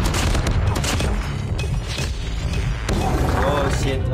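Rapid automatic gunfire from the SMG Striker in a shooter video game, dense bursts of shots rattling close and loud across the span with a brief lull midway, with game sounds layered underneath.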